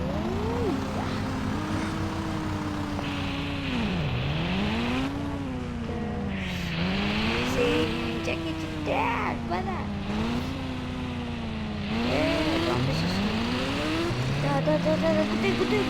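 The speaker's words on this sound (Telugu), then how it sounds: "ట్రాక్టర్" A tractor engine passes, a loud continuous drone whose pitch rises and falls repeatedly as it works, with faint speech mixed underneath throughout.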